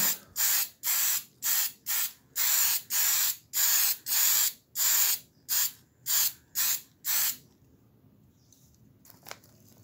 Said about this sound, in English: let's spray this one silver